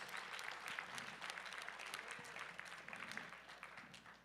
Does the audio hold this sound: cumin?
no